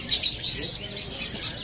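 A Kalimantan kacer, the magpie robin, sings in short bright chirping bursts, loud and close, with brief pauses between phrases and a faint background murmur.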